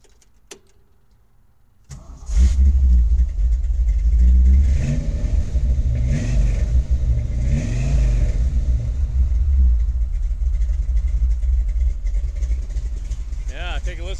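A 1964 Ford Ranchero V8 cranks briefly, fires up and settles into a loud, deep, loping idle with a rhythmic uneven rumble, a short rev early on and a voice speaking over it.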